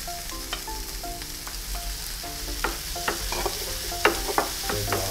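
Chicken frying with browned onions in a pan, a close sizzle punctuated by frequent clinks and scrapes of a utensil stirring against the pan, with no one talking.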